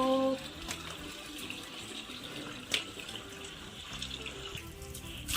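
Water splashes and pours in a steady wash as a bucket is emptied over a buffalo, with a few brief louder splashes partway through.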